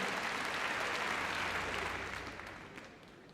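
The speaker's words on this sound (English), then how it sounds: "give Pauline a round of applause" Dense applause from a crowd at a Crufts 2012 heelwork to music dog competition fills the space, steady and loud at first before gradually fading toward the end.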